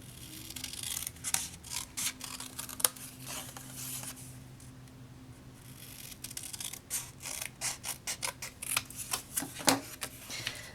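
Scissors snipping through cardstock while trimming layered paper embellishments on 3x4 cards, a run of short, crisp cuts close by that pause briefly midway and then resume in quick succession.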